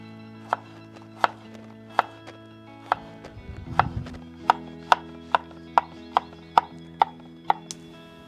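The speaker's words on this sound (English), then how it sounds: "So let's start chopping stuff down. So first is the onion, and next the 3 garlic cloves." An onion and garlic cloves are chopped at a camp kitchen, a steady run of crisp knife taps on a board, evenly spaced and close, pausing briefly mid-way for a scraping shuffle before quickening again.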